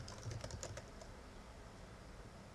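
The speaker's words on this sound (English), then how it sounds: "we'll just type in localhost since that's easier" Quiet keyboard typing on a computer while entering a localhost address during a MediaWiki setup on Ubuntu 10.04: a short burst of soft, close key clicks in the first second, then faint room hiss.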